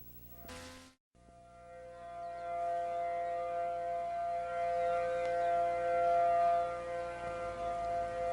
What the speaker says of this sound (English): The island awoke to the wail of civil defense sirens